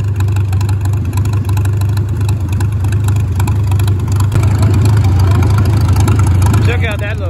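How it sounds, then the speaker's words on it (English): A small tricycle-type tractor engine runs steadily at a steam and gas show, with a deep, constant low rumble and a loud, close drone throughout. "Check out that little guy. That little itty bitty tricycle-y tractor."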